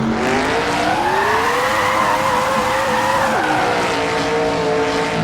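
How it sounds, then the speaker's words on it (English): In a racing video game, a muscle race car at about 260 mph blows its tires. A loud, steady engine drone rises and then drops sharply, with a continuous skidding roar and no talk. "Fucking blew the tires up at 260 miles an hour."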